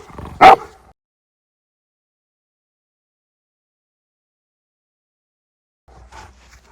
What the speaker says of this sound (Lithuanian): Aš net nežinau, ar girdžiuosi per jo lojimą.